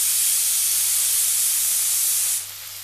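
Chopped onions for posto hit hot oil in a pan, giving a loud, steady broadband sizzle that holds evenly and then drops to a softer hiss near the end, with no talking.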